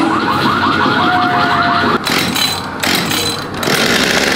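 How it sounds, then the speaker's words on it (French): A small chainsaw engine with no chain fitted revs loud and buzzy, rising and falling in repeated bursts with nothing to cut. "il n'y a pas de chaîne sur la tronçonneuse. Elle peut pas couper"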